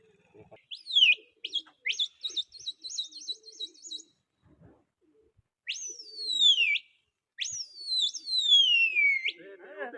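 Pigeons call in short bursts of high, sweeping whistle-like notes that glide downward and repeat, clear and fairly close, with quiet gaps between phrases.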